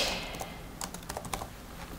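Keys on a computer keyboard clatter in a short burst of quick, light clicks while a scene name is entered, close and fairly quiet with no talking.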